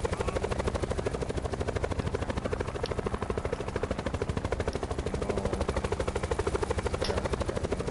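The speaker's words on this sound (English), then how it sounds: "There's a helicopter there." Helicopter in a multiplayer war video game with a ground war mode, rotor thudding steadily and close throughout, with scattered gunfire in the background.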